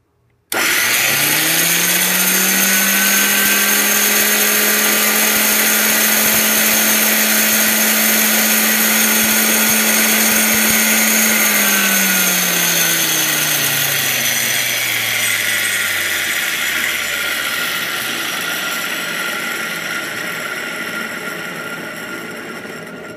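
An old Black and Decker electric drill switches on abruptly and runs loud and close with a harsh, grinding gear buzz, holds a steady whine, then its pitch sags as it winds down and fades.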